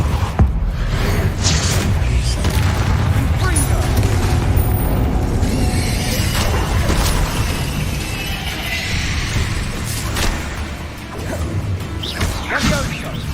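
Confringo and Bombarda explosion spells cast in the Hogwarts Legacy video game, producing loud, dense booming blasts and crashing debris that roll on continuously with a few sharp impacts near the end, with voices at times.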